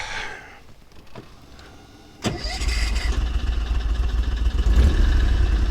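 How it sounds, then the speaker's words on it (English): An Argo 8x8 amphibious vehicle's engine cranks and fires after a quiet start, then settles into a steady, loud, rumbling run that continues to the end. "Now we fire our engine up."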